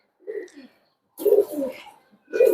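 Close coos from native Bangladeshi high-flying pigeons come in three short throaty bursts, separated by brief silent pauses.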